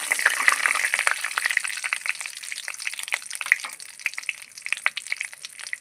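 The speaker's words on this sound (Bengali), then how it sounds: "কড়াইয়ের তেল গরম হয়ে গেছে, গোটা জিরে ফোড়ন দিয়ে দিচ্ছি, তেজপাতা" Whole cumin seeds, bay leaf and dry chilli sizzle in hot oil in a kadai, a steady close crackle and spitting with no talk over it.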